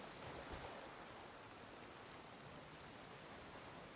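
Ocean waves wash in a steady, full roar of surf with wind, continuous and enveloping without any voices.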